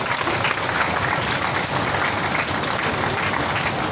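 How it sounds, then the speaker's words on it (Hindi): An audience at a Buddhist religious gathering claps loudly and steadily, a dense, unbroken burst of applause that fills the whole stretch. "जोरदार ताली हो जाए"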